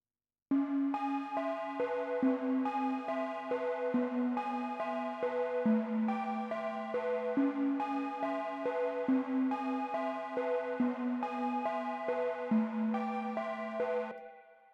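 A walking bass line of evenly spaced notes stepping up and down in a steady rhythm, played on its own with a bright, sustained tone.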